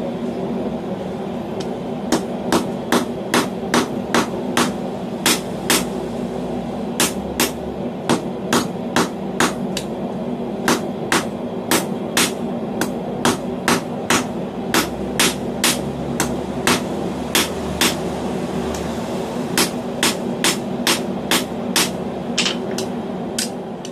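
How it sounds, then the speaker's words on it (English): A blacksmith hammers steel stock while making adjustable box-joint tongs. Sharp, ringing blows land in a steady, quick rhythm over a constant humming background, loud and close throughout. "I'm just gonna let me hammer on this stock, see how it works"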